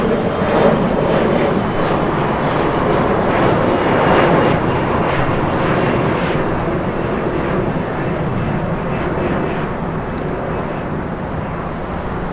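Boeing 747 jet engines roar at Los Angeles International Airport, a loud, sustained broadband rush that holds steady and then eases slightly as the aircraft passes.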